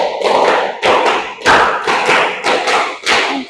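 Several children clap in rhythm during a classroom clapping game, sounding loud broad slaps in short bursts separated by brief gaps, grouped in counted sets.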